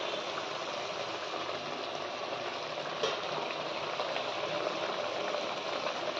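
Tyangra fish jhal cooks in a pan over a low flame, giving a steady, dense close sizzle and frying hiss that continues unbroken, with one faint clink partway through.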